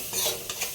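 Onion, garlic, ginger, shallots and ground turmeric, chili and coriander being stirred in hot oil, a short scraping stir over a soft sizzle with two quick pulses of movement.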